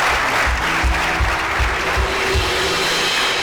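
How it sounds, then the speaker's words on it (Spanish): A church congregation claps loudly and continuously, a dense, close wash of applause filling the room with faint low thumps pulsing underneath. "Si es para el Señor, déselo más fuerte el aplauso."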